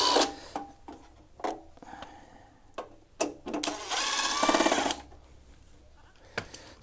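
Screws are undone to open a SolarEdge three-phase EV charger, with scattered close clicks, scrapes and taps, then a sustained whirring burst of a few seconds, probably a powered screwdriver, with no talking.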